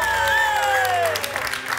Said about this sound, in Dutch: Ik wil graag jullie applaus.